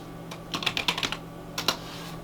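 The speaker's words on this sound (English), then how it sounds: "we're just going to type in candle labels" Fingers tap out a short burst of keystrokes on a computer keyboard, close and clear, about a dozen quick clicks in two clusters over a low steady background hum.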